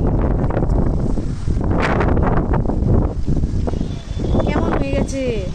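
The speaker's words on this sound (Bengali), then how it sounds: "হঠাৎ করে ওয়েদারটা কেমন হয়ে গেল, ভালো হাওয়া দিচ্ছে, দেখো গাছ দেখে বুঝতে পারবে," Strong gusty wind buffets the microphone before a storm, loud rumbling bursts rising and falling close by while someone talks over it.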